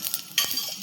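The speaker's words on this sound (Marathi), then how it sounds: "आता थोडासा तेलात भाजून घेऊ आपण." Ground masala spices fry briefly in hot oil, giving a short, soft sizzle with a light scrape of a spoon against the pan.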